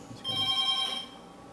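A telephone rings once with a short electronic tone lasting under a second, clear and close, in a quiet room before anyone answers.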